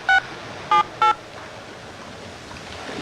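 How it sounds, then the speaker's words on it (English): Three short, loud telephone dialing tones sound in quick succession near the start of a phone call, then only faint background hiss follows. "We're gonna call Mary."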